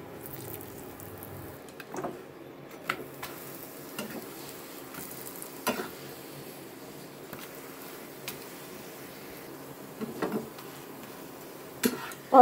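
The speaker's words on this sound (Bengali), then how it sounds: "তো এখানে হচ্ছে আমি এই যে পরোটাগুলো ভেজে নিচ্ছি।" Paratha flatbread frying in a pan gives a faint, steady sizzle, broken now and then by soft taps and scrapes, with no one speaking.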